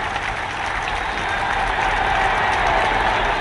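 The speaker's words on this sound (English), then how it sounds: "People stand up and cheer themselves wild at King's Hall." A crowd at King's Hall in Belfast applauds and cheers after a boxing match, producing loud, dense, continuous clapping and crowd noise with no pauses and no talking over it.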